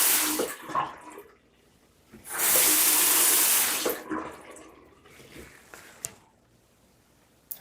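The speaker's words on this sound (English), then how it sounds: "I'm also going to turn the water back on." A Delta faucet is turned back on, and water gushes loudly for a couple of seconds before tapering off, with smaller splashes and handling noises around it.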